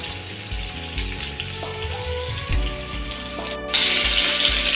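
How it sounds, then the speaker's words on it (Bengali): Sliced ridge gourd (jhinge) frying lightly in a pan, unsalted, giving a steady close sizzle with clinks and scrapes of stirring and faint watery hiss, louder near the end. "আমি এখন হালকা করে ভেজে নেব"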